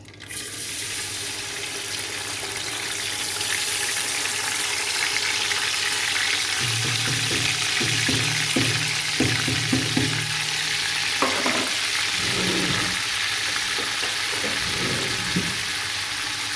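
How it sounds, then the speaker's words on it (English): Oil sizzles loudly and continuously in a pan with a pepper mix while cooking egusi soup, a dense steady hiss with occasional scraping and clinks as it is stirred. "the oil is already sizzling"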